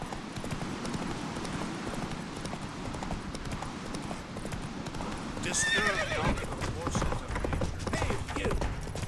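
Roach the horse gallops in The Witcher 3, with rapid, close hooves drumming throughout and a loud neigh and whinny breaking out past the midpoint amid battle noise.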